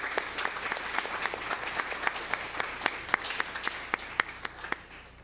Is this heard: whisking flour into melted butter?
no